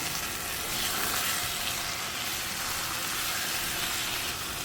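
Sliced tomatoes fry in hot oil for a mutton masala, a loud, dense, continuous sizzle with stirring scrapes, close up and steady throughout, with no talking.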